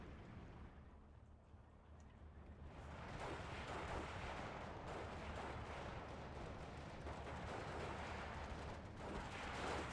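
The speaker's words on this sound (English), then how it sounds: "Mortar going after that Pack 40." Mortar artillery fire in the Steel Division 2 war game, with dense rumbling blasts and explosions forming a continuous heavy roar that swells after a quieter opening.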